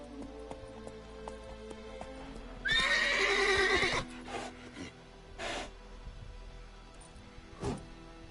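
A horse in The Witcher video game gives a loud, shrill neigh lasting over a second, followed by snorts and scattered hoof and tack noises at close range.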